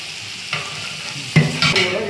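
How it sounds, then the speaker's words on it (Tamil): Sliced onions hit hot oil for mutton biryani, bursting into a loud sizzle partway through, with stirring scrapes and a steady frying hiss that continues to the end. "தாளிப்பு ஃப்ரை ஆன உடனே நம்ம நீட்டாக கட் பண்ணி வச்சுருக்கிற வெங்காயத்தை சேர்க்குறோம்"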